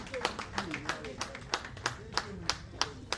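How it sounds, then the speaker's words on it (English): Audience clapping at a convention and investiture ceremony in a hall, welcoming a guest: a loose patter of separate claps, moderately near, with a voice speaking over it. "Please with a round of applause"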